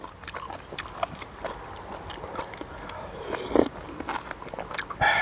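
Crunchy chewing while eating som tam with pork, close and irregular bites and crunches from the mouth, moderately loud with small clicks, and no talk over them.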